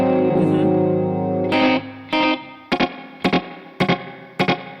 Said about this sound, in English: This is very chorus-like. So it's duplicating and detuning it. So it's literally chorusing.